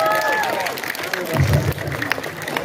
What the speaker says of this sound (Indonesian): Iya, tepuk tangan lagi kalau begitu.